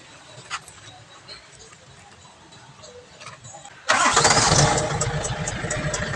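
After battery terminal repair, a car engine cranks and catches partway through, then settles into a loud, close running idle. Quiet, faint talk comes before the start.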